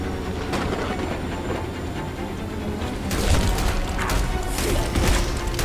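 A video-game train rumbles past with rhythmic clattering that grows louder and heavier partway through, a continuous mechanical roar.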